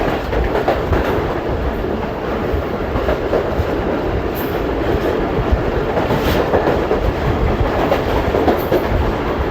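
A train rumbles steadily past Mandra railway station with continuous rushing noise and a faint rhythmic clatter of wheels, loud and close throughout.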